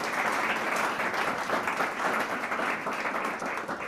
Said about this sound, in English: give a round of applause to Jeff and his work here